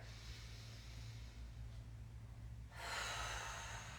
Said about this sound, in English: Breathing all the way out, connecting here.